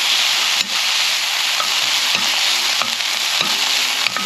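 Peppers and broccoli sautéing in a pan give a loud, steady, close sizzle throughout, with a few soft clicks of stirring scattered through it and no voices.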